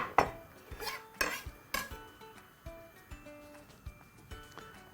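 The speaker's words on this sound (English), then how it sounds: "we'll begin by chopping up our bacon as finely as possible" Knife chopping bacon finely on a cutting board: a steady run of sharp wooden taps, close and moderately loud, with clattering impacts and no talk.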